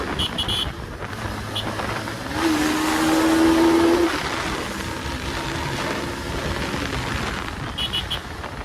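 A Bajaj Pulsar 220 motorcycle engine drones at full throttle with heavy wind rush, rising briefly into a higher whine before settling back to a steady roar.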